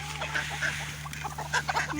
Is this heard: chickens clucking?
yes